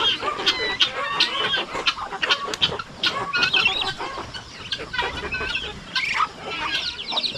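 Pet chickens foraging in grass, a busy mix of clucks and squawks from several birds close by, rapid and irregular, with a brief flutter of wings and no voices.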